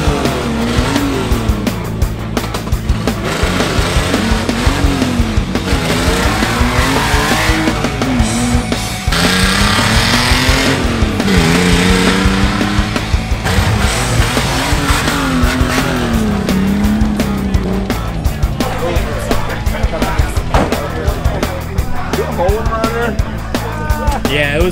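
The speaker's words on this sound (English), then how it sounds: "We all came together and the Beetle is now out driving around." A Volkswagen Beetle off-road rat rod with a leaking radiator drives and revs loudly, its engine note rising and falling with brief tire squeals, steady for the whole stretch, with a voice now and then in the mix.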